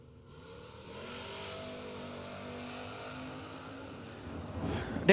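A pickup truck engine at a drag-racing event revs and holds a rising, sustained drone, distant at first and growing louder toward the end, with no talk.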